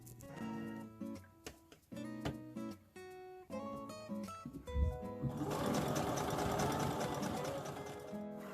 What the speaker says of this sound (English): I use my sewing machine to sew it down